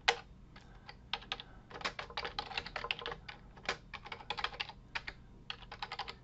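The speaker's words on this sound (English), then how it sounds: "And I'm going to cut out a whole bunch of my typing here." Typing on a computer keyboard while creating a C++ file in the vi editor: bursts of close, crisp key clicks in quick irregular runs with short pauses, no voices.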